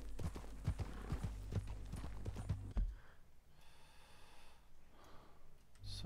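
A horse in a Western video game trots with rapid clip-clopping hoofbeats up close, then stops abruptly and leaves quieter breathing and snorts, with brief speech mixed in early.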